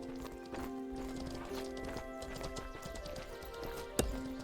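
Horse hooves clip-clop steadily in the video game Mortal Online 2, a fairly faint, even trotting rhythm over a constant background hum, ending with one sharper thud.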